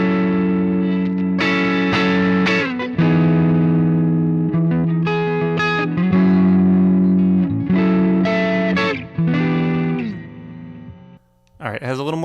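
Electric guitar played through the Vintage Vibe amp simulator on its R&B Sparkle preset, a bright, chorused clean tone with noticeable delay, strummed chords ringing out loud and steady with brief pauses between phrases.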